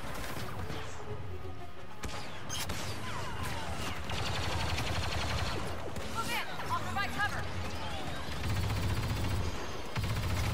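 Gunfire from a heavy-class weapon in Star Wars Battlefront II plays out as rapid repeated shots and crashes through a busy game battle, with a player talking over it.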